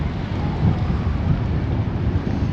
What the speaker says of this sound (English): So of course we're right by the sea and it is a windy one.